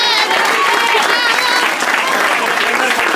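Loud, close applause from an audience cheering Davide, dense continuous clapping with excited voices and shouts mixed in throughout.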